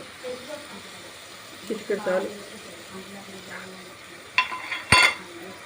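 A spoon stirs boiled peas into a potato curry in a pan, giving a few scraping clinks and stirring scuffs against a quiet kitchen background with faint voice activity.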